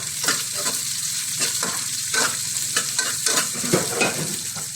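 Onion sautéing in a pan for a kappa biryani with sausage, ginger and green chilli, giving a steady close sizzle punctuated by scraping stirs of a spoon.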